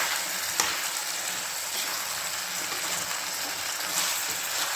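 Food sizzles steadily in a hot frying pan while being stirred during home cooking, a dense, close crackle with a few sharper scrapes and taps mixed in, and no talking.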